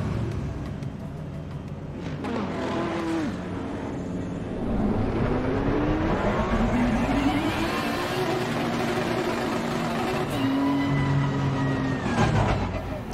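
A 2018 Nissan GT-R race car in Assetto Corsa Competizione revs and shifts, engine tones rising and falling through gears over a continuous drone, moderately loud, with no speech.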